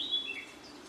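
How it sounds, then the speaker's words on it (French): A warbler sings a very brief, faint phrase of high whistled and fluty notes with a slightly grating edge, heard from a distance outdoors. "des moments grinçants, tu sais, qui sont spécifiques aux fauvettes"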